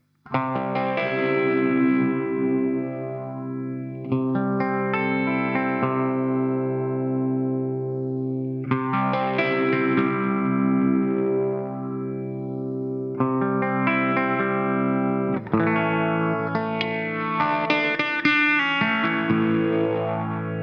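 Electric guitar through a Flattley Star Fazer phaser pedal, sustained chords with slow sweeping phase swirls rising and falling in repeated cycles, loud and alone without talk.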